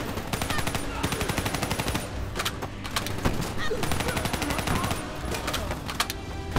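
Automatic gunfire in the video game Call of Duty: Black Ops III comes in rapid, loud bursts. Two long sustained volleys are broken by brief pauses and scattered single shots.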